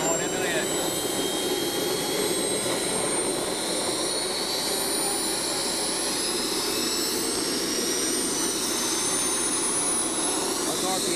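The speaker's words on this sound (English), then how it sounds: "we'll hear the motor start to spool up." A model jet turbine engine roars continuously at close range, a high whine sliding upward as it spools toward 55,000 RPM on kerosene, loud and steady throughout.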